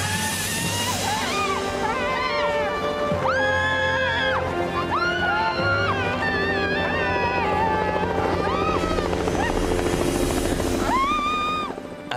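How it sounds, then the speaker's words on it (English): A helicopter's steady drone fills the scene continuously and loudly, with wavering tonal sounds riding on top of the constant rotor noise. "coming up from the valley floor is that sound of a helicopter."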